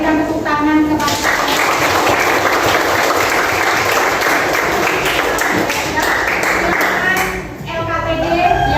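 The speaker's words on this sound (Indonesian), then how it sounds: "Kita berikan tepuk tangan kepada" Students in a classroom clap together after group presentations in a lesson. A dense, loud burst of applause starts after a brief pause, holds steadily for several seconds, then dips and tails off.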